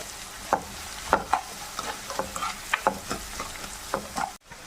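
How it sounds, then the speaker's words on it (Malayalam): Onions and bitter gourd sautéing with salt in a pan for pavakka curry, a steady close sizzle broken by repeated scraping stirs of a spatula, no voices. "സവോളയൊക്കെ ഒന്ന് വഴാൻ വേണ്ടി സ്വൽപ്പം ഉപ്പിട്ട് കൊടുക്കും"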